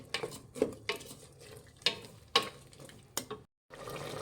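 Vegetables with salt and chili are stirred in a pan for vegetable pulao, making several quiet, irregular spatula scrapes and soft knocks against the metal, with a brief silence near the end.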